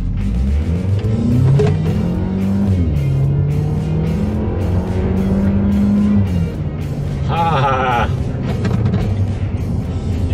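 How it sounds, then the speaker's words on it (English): A modified Hyundai Tucson built for SEMA 2015, with turbo, blow-off valve and AEM intake and charge pipe, accelerates in a rising engine drone, then a sharp airy hiss bursts out briefly, with a voice talking over it. "You can hear the turbo, you can hear the blow-off valve."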